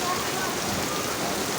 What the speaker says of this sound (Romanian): Ia ce plouă.